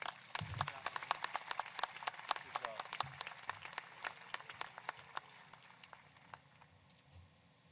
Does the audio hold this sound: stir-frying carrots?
no